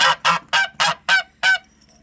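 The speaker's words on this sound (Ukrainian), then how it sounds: "Інший білий гусак, датський е, цей мамут ходить з сусідськими гусьми." Geese, including a white Danish gander, honk repeatedly up close, a rapid series of loud nasal calls in steady rhythm.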